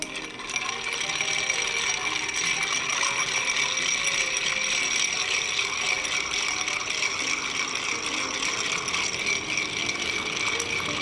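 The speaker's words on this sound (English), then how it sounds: "We're just stirring it to chill it." A bar spoon stirs a cocktail over ice to chill it, giving a continuous rapid rattling and clinking of ice against the glass, close and steady throughout with no talking.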